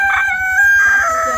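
A hen on a village farm gives a short, loud, close-up call with a sustained, crowing-like tone, heard alone without talk.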